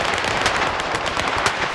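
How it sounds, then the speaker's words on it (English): Rapid gunfire in the video game S.T.A.L.K.E.R. 2, a dense, loud burst of automatic shots crackling continuously from start to finish. "The sounds of gunfire grow louder"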